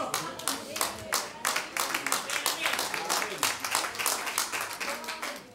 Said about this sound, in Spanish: No, me aplaudieron mucho.